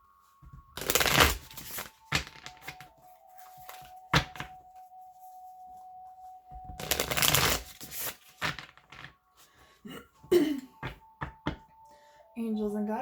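Light Seers Tarot cards shuffled in two long, dense riffling bursts, with scattered taps and handling sounds between them and a steady faint tone beneath.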